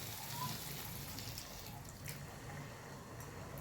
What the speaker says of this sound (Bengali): লাস্টে জলের বদলে আমি দুধটাকে দিয়ে দেবো